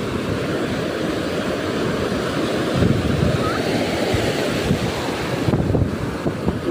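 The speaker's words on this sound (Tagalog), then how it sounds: "Paalala lang po ha, malaki yung alon" Big ocean surf rolls in with a strong current, a steady broadband roar of breaking waves mixed with buffeting wind on the microphone, loud and continuous throughout.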